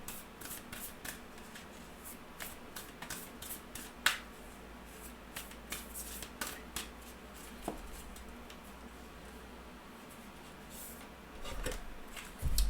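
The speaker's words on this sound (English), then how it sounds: "let's pull you an oracle card" Oracle cards being shuffled and pulled from the deck, soft close riffling and flicking in irregular bursts, quiet with a faint room hum and no talking.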